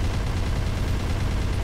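Gatling gun fire in Armored Core for Answer, hard-mode co-op combat: a dense, unbroken stream of rapid shots that roars steadily and loudly from start to finish.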